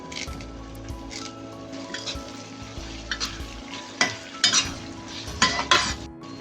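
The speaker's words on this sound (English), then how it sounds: "Then we will move in the curry leaves." Curry leaves fry and crackle in hot oil in a pan while a utensil stirs and scrapes, giving a steady close sizzle broken by sharper clinks of metal against the pan.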